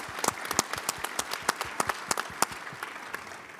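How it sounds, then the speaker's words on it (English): Audience applause for the panelists closing a space-industry conference session, a scattered round of individual claps with sharp, irregular hand strikes that taper off toward the end. "let's give our panelists a round of applause"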